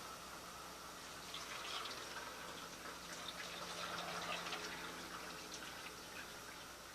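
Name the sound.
pouring fresh plum juice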